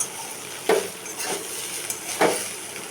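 Soya chunks, capsicum and chopped green chilli stirred in hot oil, with two distinct scraping sweeps of a utensil against the pan over a low sizzle, close and brief.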